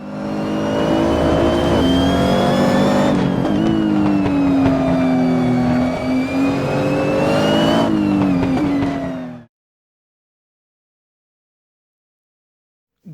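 A rally car's engine roars loudly from close onboard as it brakes and corners on a circuit, its pitch shifting and dropping through downshifts before the sound cuts off abruptly.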